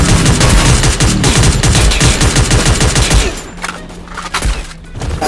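Rapid bursts of gunfire from a shooting video game during a fast tournament match, dense and loud for about three seconds, then dropping to sparser shots and softer game sounds.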